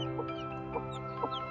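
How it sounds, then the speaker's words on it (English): A chicken clucks in short, evenly spaced calls, soft and close, over a steady background hum. "Chickens have their own unique language with over 30 different sounds used to communicate."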